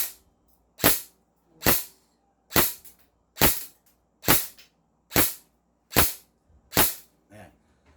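Airsoft M4 rifle firing eight evenly spaced sharp single shots, each a loud close crack with a brief decay, about one per second, with no voices between them.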